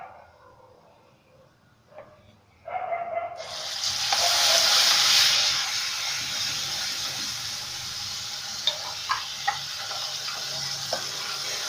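Cumin seeds dropped into hot oil for a Rajasthani besan gatte curry burst into a loud, steady sizzle after a few quiet seconds, hissing continuously with small pops near the end.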